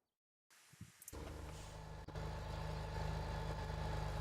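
A tractor engine in Farming Simulator 17 starts up after a brief silence and settles into a steady, close, low rumbling idle with a constant droning hum.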